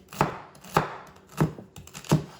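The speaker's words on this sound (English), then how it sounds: "then you're gonna wanna slice your celery nice and skinny." Celery being sliced thin with a knife on a cutting board during home dinner prep, four crisp, evenly spaced chops close up with quiet pauses between them and no talking.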